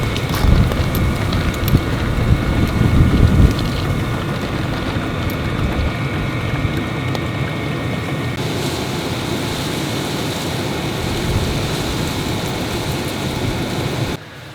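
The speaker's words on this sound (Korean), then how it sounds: "바람." Strong gale-force wind buffeting a parked car during winter car camping, a steady loud broadband roar with heavier gusts in the first few seconds, alone with no talk.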